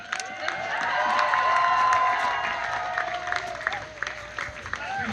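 An outdoor crowd at Disney's Fort Wilderness campground claps and cheers for Chip and Dale, broad steady applause with scattered whoops over background music.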